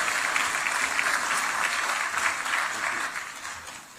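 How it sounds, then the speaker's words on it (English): Sustained audience applause at a Kenya-European Union business forum in Nairobi, a dense, loud wash of clapping that tapers slightly toward the end. "A round of applause for him,"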